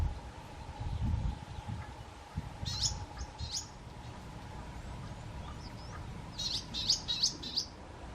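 A sunbird at honeysuckle flowers gives short, high chirps in two quick clusters, faint and fairly near, over a quiet outdoor background with low rustling and a steady hum.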